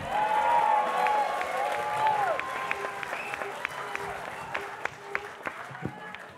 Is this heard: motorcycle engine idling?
no